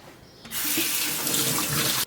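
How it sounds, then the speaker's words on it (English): Water runs steadily from a kitchen tap while hands are washed, a loud continuous splashing stream that starts abruptly and cuts off cleanly after about a second and a half. "I'm just going to wash up my hands."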